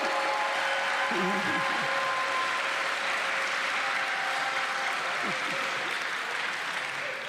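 An audience at a Los Angeles mayoral briefing applauds Dave Grohl and his wife Jordan with sustained, moderately loud clapping, and a few brief voices rise under it.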